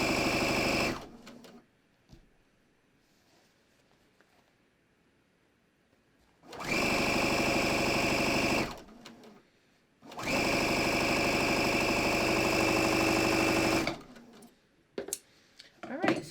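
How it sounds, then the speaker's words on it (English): A sewing machine stitching the inseam of yoga pants, running in bursts of steady mechanical whirring, two long runs separated by quiet pauses, close and clear with a short start near the beginning. "I'm just going to sew my inseam."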